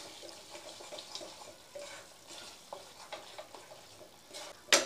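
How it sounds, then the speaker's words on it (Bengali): Masala for restaurant-style shahi paneer, cooked over low gas in a pan, gives off faint, sporadic pops and crackles at a soft, uneven rhythm, ending in one sharper crackle. "এই যে ফটফট করে ফাটছে"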